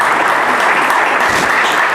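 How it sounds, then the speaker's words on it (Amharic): A church congregation applauding at a book launch, a thick, even wash of clapping filling the whole moment, loud and close with no voices on top. "ስለሰጣችሁኝ ፍቅር ለራሳችሁ አጨብጭቡ።"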